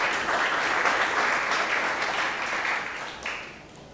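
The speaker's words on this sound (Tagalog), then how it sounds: "The best pong palakpak para kay Jesus." Sustained applause from a church congregation during a sermon, dense clapping that holds steady for several seconds, then tapers off at the end.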